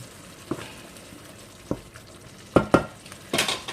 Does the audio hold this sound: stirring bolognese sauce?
yes